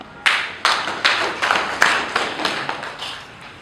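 Several loud, sharp claps ring out one after another in a slightly uneven rhythm, like a brief burst of applause from a small group at a Ugandan State House gathering, with no voices over them.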